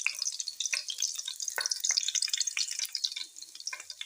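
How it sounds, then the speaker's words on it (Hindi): Local desi garlic dropped into hot ghee for chicken soup, giving a crackling, spattering sizzle with scattered pops that settles slightly toward the end, close and without talk. "घी गरम हो गए, हम डालेंगे लहसुन।"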